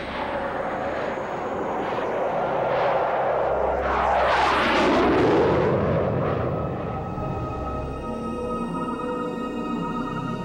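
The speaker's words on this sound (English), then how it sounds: "the Belgian Air Force were able to scramble two F-16 fighters to intercept the unidentified" A pair of Belgian Air Force F-16 fighter jets roars overhead, swelling to a loud peak around the middle as they pass and then fading into a steady rumble, with no voices.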